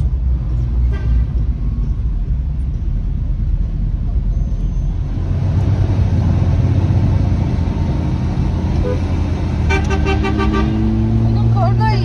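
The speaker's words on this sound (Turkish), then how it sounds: "Tam eski Amerikan kornası." An old American car horn honks near the end of a drive through Ankara, a few loud tonal blasts over a busy road with car and engine rumble, while people talk throughout.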